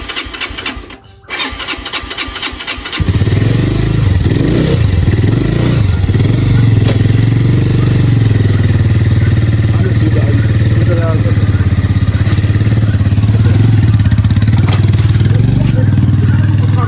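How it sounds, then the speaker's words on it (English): A motorbike with mechanical issues being started, a brief cranking clatter followed by the engine catching and running loud and close at a rough, steady idle for many seconds. "My brother is trying to start the motorbike"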